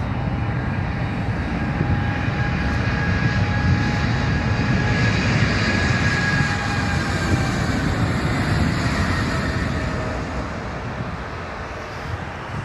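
A heavy wide-body cargo aircraft at Phoenix Sky Harbor airport gives a loud, steady jet engine roar with a sustained whine, holding level before easing off slightly near the end, with no voices.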